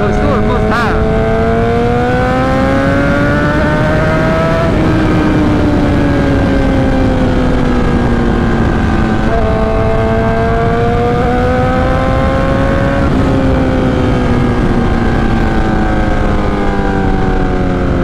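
2008 Suzuki GSX-R 1000 sportbike on a straight pipe with no muffler, revving loud and steady in long sweeping rises and falls, a harsh buzzing exhaust note that dominates the whole stretch.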